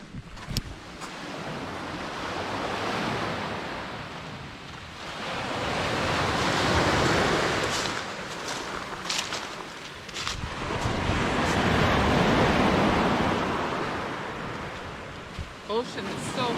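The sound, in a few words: calm ocean waves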